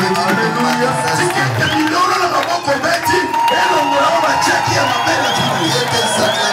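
Congregation cheering and acclaiming during a French-language night prayer service, a loud, sustained roar of voices, whoops and scattered clapping from a packed crowd, continuous throughout.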